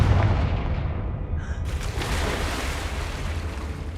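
Confringo spell blast in the Hogwarts Legacy video game, a heavy booming explosion with a rumbling, crackling tail that stays loud and close for several seconds.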